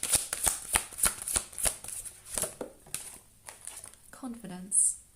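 Tarot cards shuffled and drawn from a deck, a rapid run of crisp riffling clicks followed by softer card slides and rustling, with a brief voice near the end.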